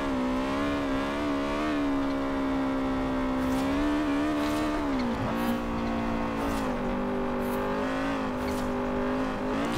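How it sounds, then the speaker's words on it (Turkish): Honda CRX fitted with a Type R engine, racing in Forza Horizon 4, holds a loud steady engine drone with shifting revs and faint turbo whistles and hisses on top. The sound comes up close, with no talk. "Hafif turbo sesleri de geliyor arkadan."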